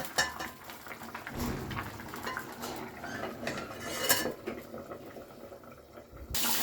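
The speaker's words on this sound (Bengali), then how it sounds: "এভাবে নাড়িয়ে নিলাম, নিয়ে আমি আবার ঢাকা দিয়ে দিচ্ছি।" Potato, cauliflower and rohu fish curry is stirred in a pot with clinks of a utensil against the metal, then the lid is set back on with a clatter, close by and fairly loud.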